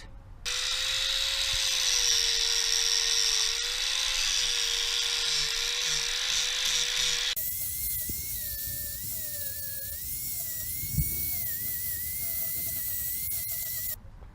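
A power grinder works down fiberglass on the body of a drift project Toyota Supra, a steady high whine that shifts pitch midway as the load changes, close and loud throughout.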